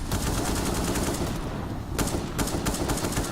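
Rapid automatic gunfire in Counter-Strike on the Mirage map during a DreamHack Open Summer esports match, AK-47 in play; dense, loud bursts of shots with brief gaps, heavy and continuous.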